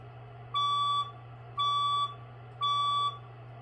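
A building fire alarm under test sounds three evenly spaced, shrill electronic beeps, each about half a second long, over a low steady hum.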